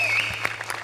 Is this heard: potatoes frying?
no